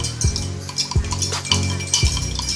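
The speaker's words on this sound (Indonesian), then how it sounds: "Kita aduk supaya keluar air dari bawang tadi." Spoon clinking against a glass as water is stirred with roasted onion inside, four distinct metallic taps at a steady rhythm over a low background hum.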